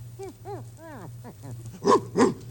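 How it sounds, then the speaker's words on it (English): A dog barks twice, sharp and fairly close, after a series of lower grunting animal calls. "Oh, it's only a dog."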